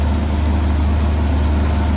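Tractor engine running steadily in a field during top-dressing of winter wheat, a continuous loud low idling rumble close by with no talk.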